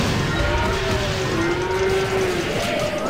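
Cows moo in the FootLOL video game, a long drawn-out low bellow with a shorter one after it, heard over a steady loud game background.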